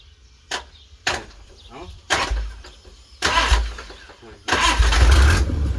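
An Isuzu 6HL1 diesel engine rated at 205 horsepower cranks in several loud, close bursts with pauses between tries, then catches and keeps running at a rough idle, with voices nearby.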